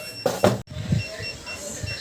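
A car's reverse parking sensor alarm gives two quick beeps, then goes quiet over a low background rumble.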